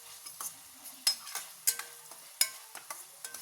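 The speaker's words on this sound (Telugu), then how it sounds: "అల్లం వెల్లుల్లి ఇలా అంతా ఒకసారి ఫ్రై చేసుకుందాం" Ginger garlic paste frying in oil, a soft sizzle under repeated spoon scrapes and clinks against the pan at an uneven rhythm, close and fairly quiet.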